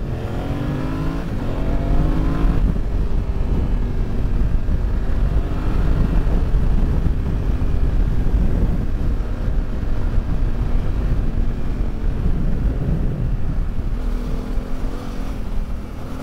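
Yamaha Tenere 700 motorcycle riding off-road, a steady loud engine drone with wind rush throughout, rising and falling slightly with throttle, no talking.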